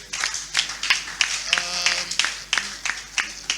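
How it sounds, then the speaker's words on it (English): A workshop audience claps in a round of applause, dense uneven hand claps close by with a brief voice or tone overlapping midway. "So can we give him a round of applause?"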